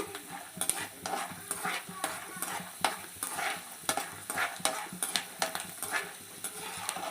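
Mint and peanut chutney ingredients fry in a pan, a steady close sizzle broken by repeated scraping stirs and light clinks of a utensil against the metal, with no talking.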